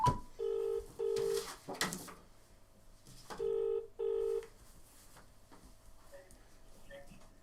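Outgoing video call on a mobile phone ringing during a live museum quiz, with paired electronic ring pulses repeating twice, moderately quiet, with brief bursts of voices and room noise between them.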